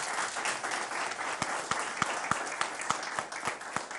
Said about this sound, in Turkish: sizlerden de onlara bir alkış göndermenizi rica ediyorum